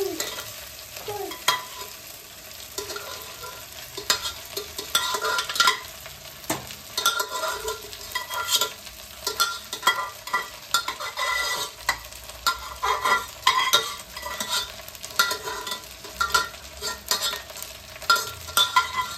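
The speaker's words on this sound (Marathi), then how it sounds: "भात टाकला की गॅस बारीक करायचा आणि हे सगळं मस्त असं परतून घ्यायचं" Cooked rice with mixed vegetables and whole spices is stir-fried in a pan over lowered heat, with a sustained sizzle broken by repeated scraping and tossing strokes of a spoon, close and continuous.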